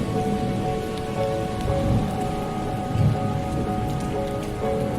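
Steady rain patters on surfaces while thunder rumbles low in the background, no voices present.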